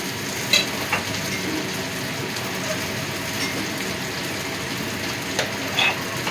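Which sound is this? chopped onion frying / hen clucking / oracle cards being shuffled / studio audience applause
chopped onion frying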